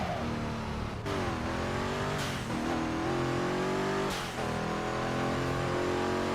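Race car engine in Midnight Club 3: DUB Edition Remix roaring steadily at high revs, with repeated shifts and swells in pitch as the car races along close behind another rider, loud and continuous with no talk.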